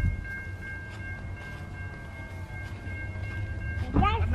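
A diesel locomotive train rumbles steadily past at moderate distance, a low continuous roar with a brief horn-like tone near the end.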